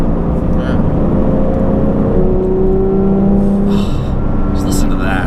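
A 2022 Porsche GT3 Touring's naturally aspirated engine accelerates, its rising harmonic drone loud and steady, with the pitch stepping up partway through as it revs and runs under faint background noise.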